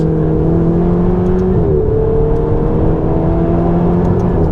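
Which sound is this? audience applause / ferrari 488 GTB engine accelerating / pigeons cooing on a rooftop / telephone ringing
ferrari 488 GTB engine accelerating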